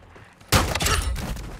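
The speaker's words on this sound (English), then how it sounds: "There it is, with a gunshot." Gunfire in a first-person shooter video game: a sudden loud blast after a quiet moment, followed by a sustained burst of sharp crackling shots that stays loud and dense until the end.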